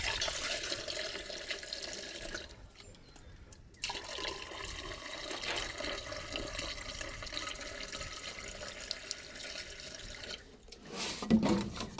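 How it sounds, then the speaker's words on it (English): Water pours steadily into the radiator of an old bulldozer, a continuous splashing rush with a couple of brief pauses and a gurgle near the end. "Just going to put some water in this radiator and see how much it's going to take."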